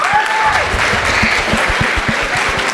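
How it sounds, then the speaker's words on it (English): An audience at a high school alumni panel claps for the superintendent of schools, a full steady burst of applause with a brief faint whistle-like tone near the start. "how about a big round of applause for our superintendent of schools, Dr. Sumit Bangia"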